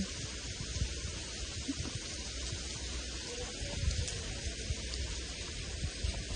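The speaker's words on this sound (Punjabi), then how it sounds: "ਥੋੜਾ ਜਿਹਾ ਟਾਈਮ ਰੁਕਿਆ ਸੀ ਮੀਂਹ ਦੁਬਾਰੇ ਫੇਰ ਚੱਲ ਪਿਆ" Steady rain falls in a hilly area of Punjab, a continuous broad hiss with soft patter that stays even and moderately loud throughout, with no voices.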